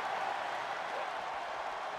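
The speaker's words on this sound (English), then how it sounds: "They are cheering loudly." A crowd of wrestling fans at a match roars and applauds steadily, a dense, continuous wash of cheering and clapping that holds at an even level throughout.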